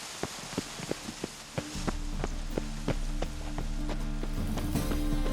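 Rain in the video game The Witcher 3: a scatter of sharp drips and taps at first, then a steady low patter of rainfall settling in beneath a faint hum, with no talk.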